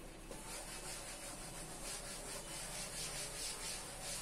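A diagram is rubbed out on a classroom board with a steady, continuous scrubbing hiss of even friction, close and moderately loud without pauses.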